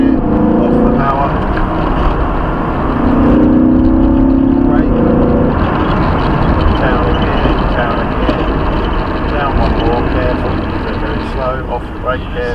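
A Lamborghini Huracan driven hard around the track at Dunsfold Aerodrome, its engine droning loud and steady with rising and falling pitch through gear changes, heard from inside the cabin under continuous spoken instruction.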